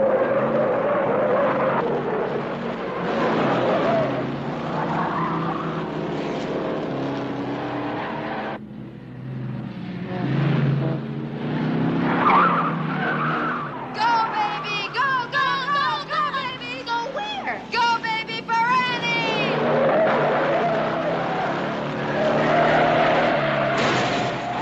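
Race cars roar loudly into a turn, engines straining under continuous broadband noise, with a rising tire squeal midway as one car appears to lose grip and spin out.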